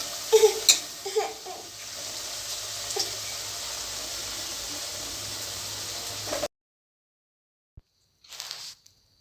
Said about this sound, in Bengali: একে একে এইভাবে সমস্ত পকোড়াকে গরম তেলে ছেড়ে দেব।